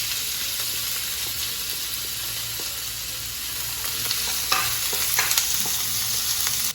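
Chopped onion sizzles and crackles steadily in a hot pan on a lowered flame, with occasional stirring clatters and sharper pops toward the end, close and continuous with no talking.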